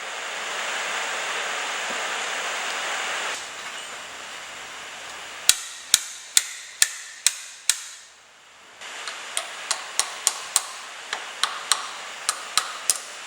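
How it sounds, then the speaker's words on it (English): Pilot bearing removal tool pulling the pilot bearing from the crankshaft of a Dodge Ram 1500 during a clutch job, a series of sharp metallic impact strikes in loose rhythm, more than a dozen, close and loud over a background hiss. "I'm going to be using a pilot bearing removal tool for that."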